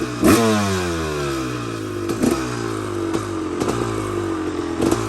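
A Honda CR250R two-stroke dirt bike engine runs on its own after a stuck throttle cable was freed, revving in four or five sharp, close blips that fall back to a steady, buzzy idle between them.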